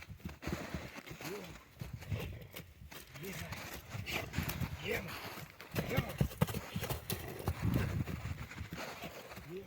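The unshod hooves of a draft mare clip-clop steadily on a hard surface in Ukraine while a person talks nearby over the rhythmic steps.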